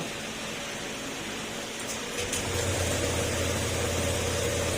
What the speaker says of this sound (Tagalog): At mapapaandar na natin ito.